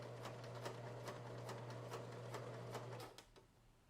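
Household sewing machine stitching a bound buttonhole in a coat, a quick, regular rattle of needle strokes over a steady motor hum, fairly close, slowing and stopping near the end.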